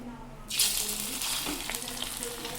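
Bombay duck (loitta) fish chops in a rice-flour batter hit hot oil and burst into a loud, steady crackling sizzle that holds close and continuous, with no talk over it.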